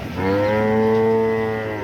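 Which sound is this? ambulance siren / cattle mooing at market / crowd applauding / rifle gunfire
cattle mooing at market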